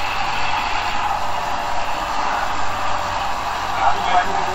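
A free-energy generator machine runs with a steady, even mechanical drone and hum, holding at a constant moderate level throughout with no clear speech over it.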